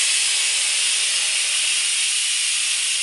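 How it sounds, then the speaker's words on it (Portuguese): A loud, steady hiss of steam rushes continuously from the valve of a Philips Walita electric pressure cooker, bright and airy, with no other sounds. "a gente vai virar essa válvula aqui e vai sair todo o vapor que tá na panela de pressão"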